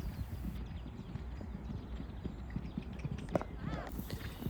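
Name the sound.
ridden horse hooves during training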